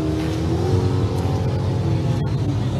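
Race cars in a 28-inch-tire drag racing class drive back around the track, a steady loud engine roar with revving, close by and without talk.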